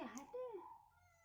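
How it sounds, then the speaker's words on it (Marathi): A brief, faint cat meow, a single rising and falling cry in a quiet room. "हो माय गॉड कॅट"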